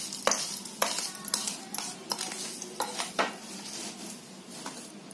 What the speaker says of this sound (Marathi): हे असं कढईमधून मिश्रण काढून घेतलं ना वाटग्यामध्ये की थोडं असं जरा मिक्स करायचं